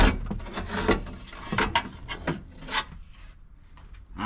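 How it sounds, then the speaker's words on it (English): A flathead screwdriver scrapes and rasps while prying up the epoxied fuel pump access cover on a BRZ/86, with several gritty scraping strokes close up that fade toward the end. "all you need is a flathead screwdriver or a chisel, and then you'll be able to get"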